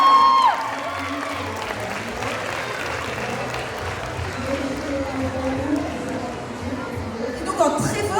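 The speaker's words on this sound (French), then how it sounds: "On peut l'applaudir encore une fois." An audience at a cosplay contest in Vannes claps steadily throughout while a voice speaks over the applause, with some crowd chatter in the background.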